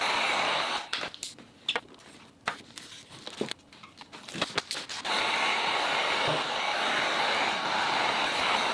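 A heat gun blows over vinyl wrap on a Tesla Model Y, giving a steady airy whir that becomes continuous after a stretch of broken, clattering handling noises.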